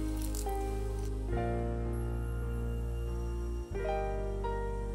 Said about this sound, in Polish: Wlewam wodę.